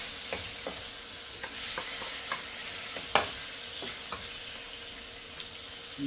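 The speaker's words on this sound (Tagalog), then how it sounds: "Lagay ko na yung kamatis." Tomatoes sauté with onion in a pan for ginisang upo with chicken, giving a steady soft sizzle broken by scattered clicks and scrapes from stirring, with no talking.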